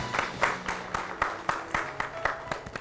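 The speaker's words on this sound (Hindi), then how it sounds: "जोरदार तालियां" An audience at a women farmers' awards ceremony breaks into applause, with a moderately loud, regular run of claps throughout.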